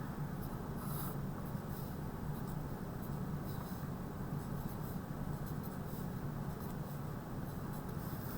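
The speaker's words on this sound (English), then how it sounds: "So I'm going to draw it here." A pen or marker scratches steadily on paper as a diagram of parallel and perpendicular lines is drawn by hand, a faint continuous scribbling over a low background hum.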